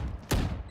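A single sharp gunshot in a competitive video game match, a loud close crack partway through, rising briefly above faint background noise.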